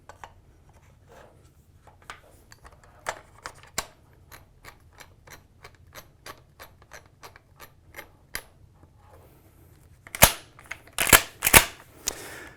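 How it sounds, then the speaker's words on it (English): Metal parts of a Mossberg 88 pump shotgun click and clack as the action is unlocked and the barrel is slid back in, a steady run of small ticks followed by several louder, sharper snaps near the end. "We'll unlock the action slightly and we'll reinstall our barrel."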